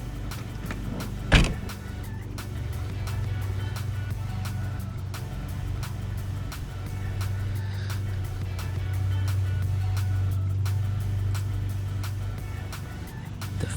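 The trunk of a Subaru WRX is shut with one sharp thud near the start, followed by a steady low hum of the car for the rest of the clip.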